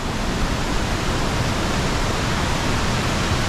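Waterfall at Mindo, Ecuador, a steady broadband roar of falling water that fills the whole stretch at constant loudness, close and alone with no voices.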